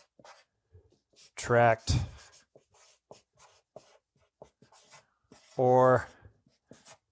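Marker strokes writing letters on a board, several short scratchy squeaks spread through the clip with two louder drawn-out squeals, under a person speaking nearby.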